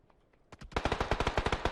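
Rapid automatic gunfire during a competitive esports practice match, starting after a few faint pops and building into a steady, evenly spaced string of loud shots with no talk.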